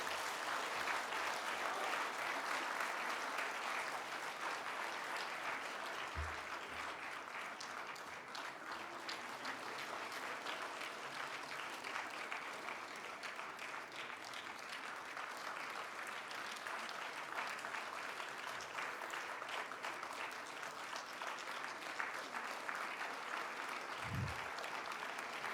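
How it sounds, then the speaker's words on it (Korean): Steady, sustained audience applause fills a church hall during a ceremony honouring retirees, a dense wash of clapping that holds evenly for the whole stretch with a couple of soft low thumps. "우리 은퇴자분들께 큰 박수로"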